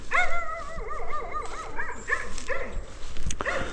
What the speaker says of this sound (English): There's the dog. She lives down there. I met the dog yesterday. She still barked at me.